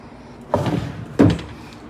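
A hotel room drawer in a Boracay resort is opened and then pushed shut, two short wooden knocks about two-thirds of a second apart, close to the microphone in a quiet room.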